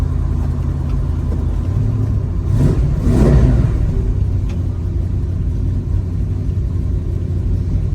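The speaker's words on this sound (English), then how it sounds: "Exhaust sounds great on this car." A 1972 Dodge Challenger on a test drive, its engine rumbling low and steady with a sharp rev rising and falling midway, exhaust note heard from inside the car with no talking.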